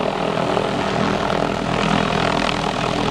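A helicopter trimming trees flies overhead, its engine and rotor making a loud, steady roar that fills the whole stretch.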